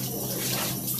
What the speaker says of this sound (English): notice how I'm letting the water now drip from my hands down to my elbows